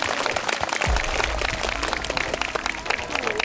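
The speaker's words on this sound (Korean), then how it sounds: "고맙다는 마음으로 박수 한번 해주시면 고맙겠습니다." Dense, steady applause from an audience at a talent show held by a residential facility for people with disabilities in Chungnam, sustained and fairly loud throughout with a few louder claps.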